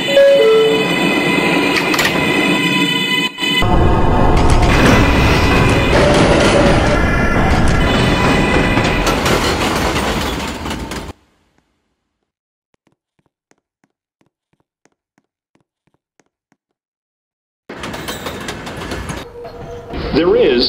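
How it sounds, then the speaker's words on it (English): A local train passes through a transit station platform, a loud rumbling roar with clattering that cuts out abruptly into silence before rail noise returns near the end; station announcements play over it. "There is a local train."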